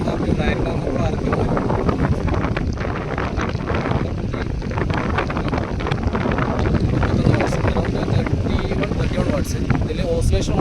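A BLDC remote-controlled RF wall fan runs at its fifth, maximum speed, giving a loud, steady broadband whoosh of moving air that hits the microphone continuously without letting up.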